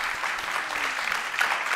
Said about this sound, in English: we have to applaud her as well for the wonderful job that she has done